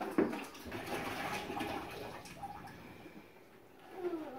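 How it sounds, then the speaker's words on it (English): A gallon of water is dumped into a container to make borax slime, a rushing, splashing pour that runs steadily for a few seconds and eases off near the end, with no talking. "So first thing we want to do is add 1 gallon of water"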